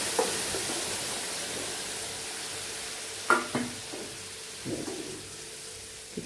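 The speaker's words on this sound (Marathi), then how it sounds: "हे मसाले पण छान आपण परतून घेऊया।" Spices being sautéed over a low flame for a tadka for whole masoor dal, a steady faint sizzle and hiss broken by a couple of brief scraping stirs of a spoon in the pan, no voices.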